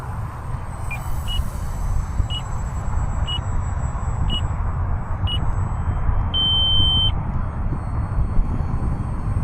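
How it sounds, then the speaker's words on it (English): A flight timer for an E-flite Valiant 1.3 m RC plane beeps outdoors: about half a dozen short, evenly spaced beeps followed by one longer tone, all over steady wind and motor noise. "Yeah, my timer just elapsed."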